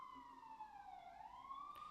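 An ambulance siren passes outside, heard faintly through a window as a steady wailing tone that slides down and back up in pitch, distant and alone.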